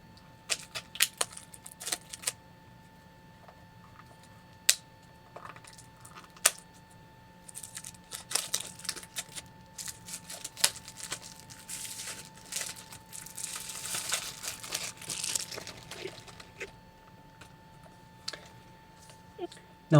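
Olight Warrior 3 flashlight box being opened: scattered close clicks, taps and rustling of cardboard and packaging, with a busier patch of crinkling in the middle, at moderate level beneath occasional talk.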